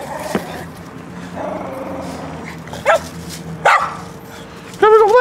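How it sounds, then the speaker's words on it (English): A dog in a backyard lets out a few sharp, separate barks near the listener, spaced over several seconds, with quiet background noise and faint voices between them. "I don't like when he barks."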